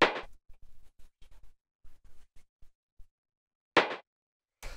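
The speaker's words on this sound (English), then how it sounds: "just like this nice little rim shot sample" A dry rim shot drum sample from a techno production, run through a drum bus, struck twice as short, sharp clicks, one near the end of a quiet stretch and another right after, with a faint low murmur earlier.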